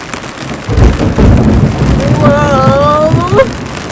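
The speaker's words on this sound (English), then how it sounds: "This is the worst hail and rain we've had on Kittiwake so far." Heavy hail and rain pound on the sailboat Kittiwake in a dense, loud, steady hiss, and a gusty roar swells beneath it. A voice cries out briefly near the end.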